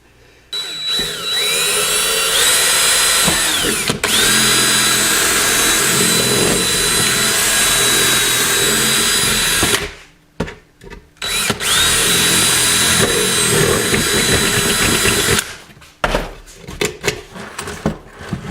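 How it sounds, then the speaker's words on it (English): A power tool cuts a slot into the airbox of a Ducati ST4, whining loudly and steadily up close in two long bursts separated by a brief pause, followed by a few clunks and scrapes. "So all I've got to do is just cut a little slot in my airbox, a little slot about that wide."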